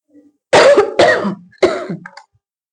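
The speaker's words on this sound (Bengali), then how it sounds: "যেহেতু একবার কাশি শুরু হয়ে গেছে তো এখন এটা চলতেই থাকবে" A person coughs in three hard, close bursts, each trailing into rough throat clearing, with a short quiet gap before the first and brief raspy traces after the last.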